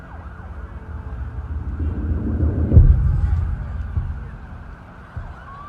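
A police siren from the end of a song wails over a deep, rumbling low background, swelling to a peak midway before fading slightly, with no voices.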